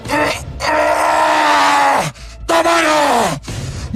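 A voice performs the screams of an aswang creature reacting as if deafened in a Filipino horror audio drama: two long, loud, strained groaning wails, the pitch sliding down at the end of each, followed by a brief gasp.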